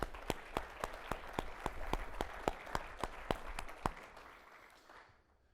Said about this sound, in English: Please give the Engineering Excellence Awards judges a big round of applause.